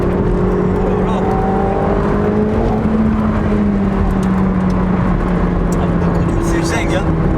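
A McLaren 720S sports car at speed gives a loud, continuous engine and road roar heard from inside, with gliding engine tones that shift as it accelerates, under people talking.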